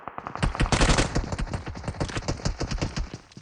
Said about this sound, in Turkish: Oğlum arkandan da sıkıyor.